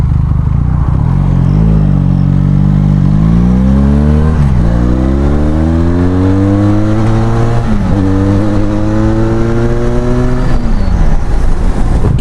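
A Benelli Leoncino 500 motorcycle fitted with an aftermarket exhaust revs loudly and close, its pitch climbing through repeated blips and gear-like rises, with no voices over it.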